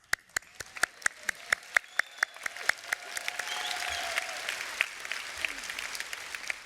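A trade union conference audience applauds, starting with slow, evenly spaced loud claps that give way to a fuller wash of scattered clapping.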